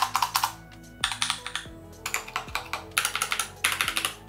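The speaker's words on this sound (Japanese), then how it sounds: "下のやつがですね、レイザーのブラックウィドウで、これをですね、この1年間ずっと使ってたんですけども" Razer BlackWidow mechanical keyboard with orange switches typed on in quick bursts of close, crisp clicky keystrokes separated by short pauses, with no talking.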